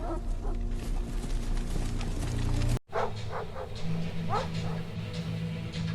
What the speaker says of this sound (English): My dog is barking like we are in danger.